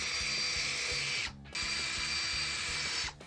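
A drill bores a hole through a wooden piece set on a sacrificial scrap board, giving a steady mechanical whirring grind that drops out briefly partway through and stops again near the end.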